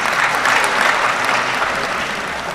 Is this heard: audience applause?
yes